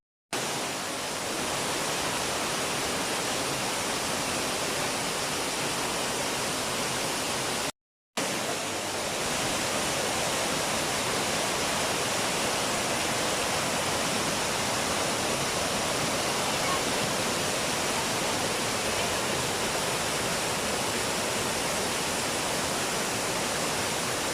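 Continuous broad roar of water pouring at Daranak Falls, steady and close, filling the whole scene with dense rushing noise and only a brief cut partway through.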